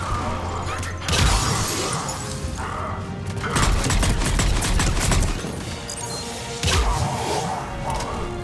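A weapon fired repeatedly through a mail slot in the Mass Effect 3 video game, loud bursts of crashing, rattling gunfire in clustered volleys with short pauses between, heavy and close.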